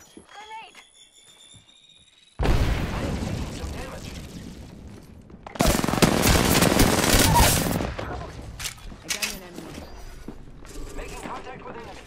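A grenade blast in a shooter video game, loud broadband bursts of explosion mixed with rattling gunfire and chaotic combat noise, while voices speak over the action.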